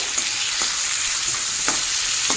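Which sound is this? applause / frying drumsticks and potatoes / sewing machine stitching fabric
frying drumsticks and potatoes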